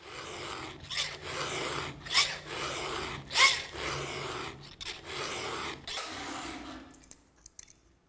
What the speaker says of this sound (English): I have to turn the chainsaw around and file the teeth on the other side.